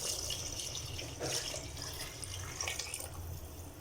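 Water pours into a cooking pot for mutton biryani rice, a steady splashing, running flow heard up close and continuing throughout with no talking.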